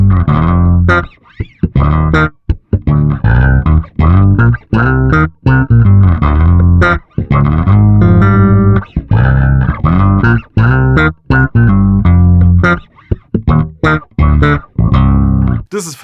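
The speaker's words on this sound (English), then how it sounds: "Let's do something funky and combine the envelope filter with the octaver." Bass guitar played through a Darkglass plugin combining an envelope filter with an OC2-style octaver gives funky, short plucked notes with a squelchy, vowel-like sweep and a deep sub-octave, loud and rhythmic with brief gaps between phrases.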